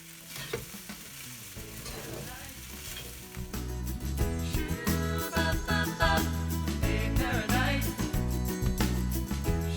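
Fried rice with chopped egg tossed and stirred in a hot pan, sizzling loudly with rhythmic scraping; the frying grows louder and busier after the first few seconds, with music-like tonal layers underneath.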